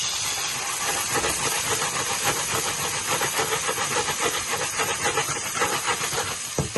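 Chopped onions sizzle hard in a hot pan of oil for a Vanni-style pork curry with vegetables, a loud, close, continuous frying hiss with no voices.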